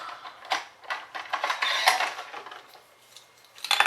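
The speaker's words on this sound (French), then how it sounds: "Et ça je vais le finir au cutter." A craft knife slicing through paper scraps while making an album, giving a series of short scratchy strokes in irregular bursts, close and fairly clear, with no talk.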